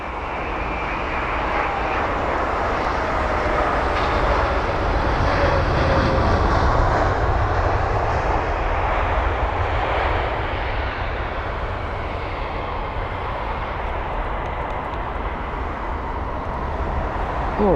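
A steady, loud roar of an aircraft engine on runway 27 at London Heathrow, sustained and even throughout, with no one talking.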